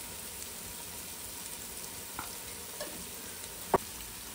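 Ginger garlic paste, turmeric and coriander leaves frying in a pan, a faint, steady low sizzle with a few soft utensil ticks and one sharper clink near the end.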